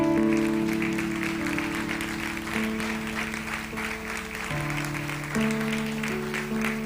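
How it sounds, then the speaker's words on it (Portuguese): A church congregation at a celebration service applauds the Lord, steady clapping running beneath sustained organ or keyboard chords, moderately loud and continuous. "Aplauda ao Senhor."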